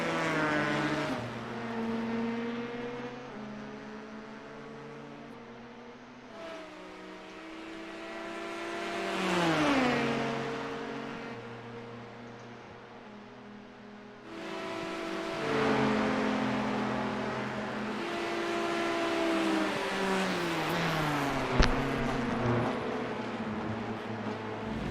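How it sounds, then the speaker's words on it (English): An LMP prototype race car in a racing video game sweeps past with a rising then falling engine whine, gear changes audible as pitch steps, swelling loud around the pass before other engines continue droning. "I gotta move out of the way for that LMP."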